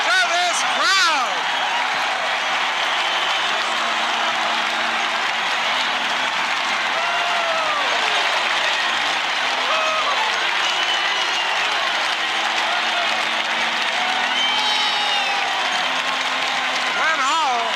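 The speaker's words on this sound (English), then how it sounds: "Listen to this crowd!" A hockey arena crowd roars with sustained applause and cheering after a St. Louis Blues goal in the 1968-69 season, a loud continuous wash of clapping and shouts, with a play-by-play announcer speaking over it.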